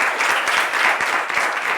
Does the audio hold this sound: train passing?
no